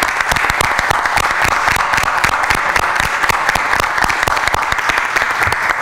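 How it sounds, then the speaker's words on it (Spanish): Dense, steady applause from a room full of people at a city public-safety committee meeting, greeting Commander Guillén; close and loud, with sharp overlapping claps throughout and no talking. "Un aplauso para el comandante Guillén."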